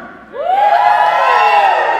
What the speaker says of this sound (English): Quick check. Cheer if you're here.